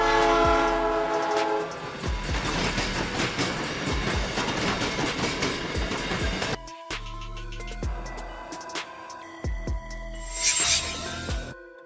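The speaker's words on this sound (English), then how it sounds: "A locomotive powered by electricity, often supplied through overhead wires or a third rail" An electric locomotive train passing, with a loud sustained rumble of rolling wheels and a long horn blast, then rhythmic clacking and another horn tone as the noise continues steadily, with no voices.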